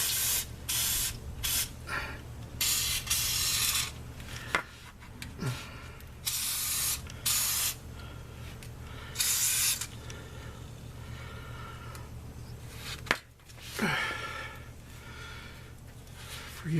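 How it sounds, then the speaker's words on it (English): Repeated bursts of Fluid Film rust inhibitor spray under a 2013 Chevy Avalanche, hissing in short and longer blasts with brief pauses between, close and fairly loud. "Spray a little more fluid film here."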